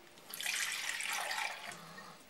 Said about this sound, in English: you're going to put a little bit of water in there